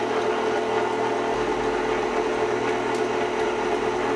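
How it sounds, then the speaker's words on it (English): An electric stand mixer hums steadily on low speed while eggs are added one at a time for a classic vanilla cake batter, a close, constant motor drone with no talk. "I recommend adding these one at a time with the mixer running on low speed"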